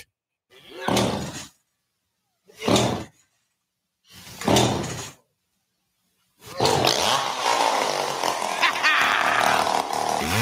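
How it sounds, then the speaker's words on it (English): A chainsaw from Burl's Chainsaw Shop roars loudly and steadily in a radio advertisement, following three short separate revving bursts, dense and continuous through the rest. "Burl's Chainsaw Shop."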